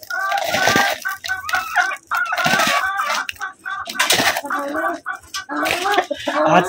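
Several hens clucking and a rooster calling nearby in a backyard flock, loud, repeated calls overlapping throughout with no talk.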